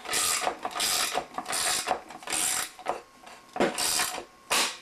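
A hand-cranked fabric cutting machine rolls fabric through its rollers, giving repeated bursts of ratcheting mechanical clatter with a few short pauses, close by and fairly loud, with no one talking.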